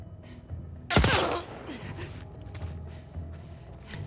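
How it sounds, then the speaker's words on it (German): A single sharp gunshot cracks loudly in The Last of Us Part II, followed by a ringing tail and softer distant game ambience and faint thuds. "Ich habe keine Ahnung, wo die Schüsse herkommen."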